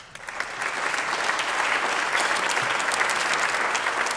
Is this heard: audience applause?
yes